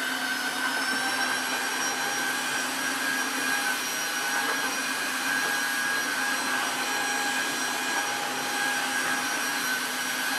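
A Tineco Floor One S3 floor vacuum cleaner runs steadily, a loud, even whirring drone with a high motor whine. It holds constant throughout, with no voices.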